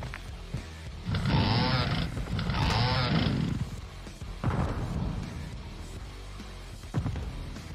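The Doom chainsaw weapon in the video game Modern Warfare 2 revs in loud, snarling bursts, two long roars close together, then shorter growls and clatter amid game noise.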